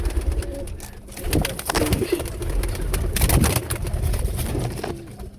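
Pigeons coo steadily inside a pigeon house where hens sit on eggs and young birds are growing, a dense, close chorus of overlapping soft coos and rustling with no talk.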